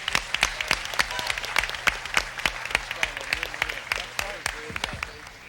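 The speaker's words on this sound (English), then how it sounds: "Big round of applause for Kenny Hahn." A crowd gives sustained, dense applause for Kenny Hahn at the 1993 Metro Red Line grand opening in Los Angeles, with many close, crisp claps forming a continuous rattle.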